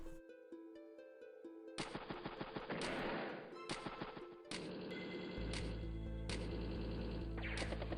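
Tank gunfire from the strategy game Advance Wars: Days of Ruin, a command tank striking a regular tank, heard as rapid bursts of chiptune-style shots over looping game music, fairly quiet.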